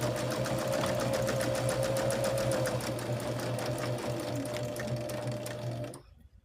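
A sewing machine runs the final stitch along a quilt block seam, a close, steady mechanical whir with a rapid needle rhythm for about six seconds before it stops abruptly.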